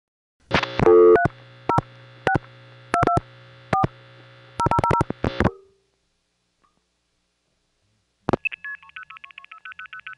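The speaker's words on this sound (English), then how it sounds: "You'll notice before the reorder clicks on, you'll hear a start tone." A June 1976 long-distance telephone call on the Hempstead–White Plains route: a burst of rapid multifrequency sender tones pulsing in short groups, a pause of silence, then a click and a start tone followed by a repeating reorder signal.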